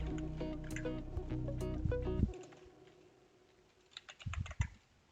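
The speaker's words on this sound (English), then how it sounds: "We will type Python." Typing on a computer keyboard, a quick run of close key clicks that stops abruptly, followed by a few scattered faint taps.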